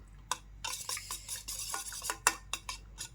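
Masala scrambled eggs (anda bhurji) stirred in a pan, with close, repeated scraping strokes of a spatula against the pan in an uneven rhythm, plus a few light clinks.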